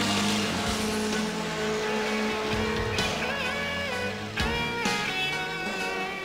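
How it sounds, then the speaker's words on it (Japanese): Touring car rejoining the race from the pit lane, its engine revving hard and rising through gears with sharp harmonic whines, loud and continuous over crowd and track ambience. "その高橋邦光が慌ただしくピットアウト。"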